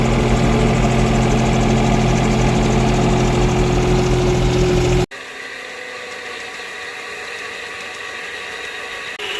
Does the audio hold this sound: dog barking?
no